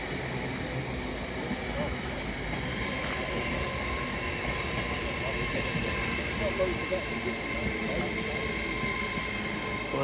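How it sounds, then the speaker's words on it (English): LNER Azuma train 801209, a late-running London King's Cross to Edinburgh Waverley service, arriving at York station with a steady low rumble and electric whine under the hum of the station, while someone talks over it. "Arriving in now is 801209. Working the heavily delayed 11:35 LNER Xmas service from London King's Cross to"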